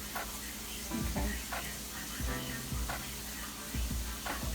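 Flour roux being stirred in bacon grease in a pan, a soft continuous sizzle with rhythmic scraping strokes of the utensil, fairly quiet and close.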